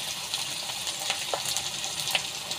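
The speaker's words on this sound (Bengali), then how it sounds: "আদা রসুন দিয়ে ভালো করে নেড়ে ছেড়ে নিব" Ginger and garlic stirred and fried in a pan while cooking a rui fish curry with potato and pointed gourd, giving a steady close sizzle with soft scraping stir sounds and no talk.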